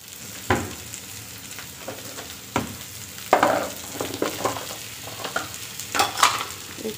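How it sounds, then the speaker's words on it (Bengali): Spiced, salted potatoes with turmeric frying in a pan as filling for Bengali aloo paratha, a low sizzle broken by several sharp spatula knocks and scrapes as the mix is stirred. "মিক্স করে নিলাম, একটু ভাজা করে নেব ভালো করে।"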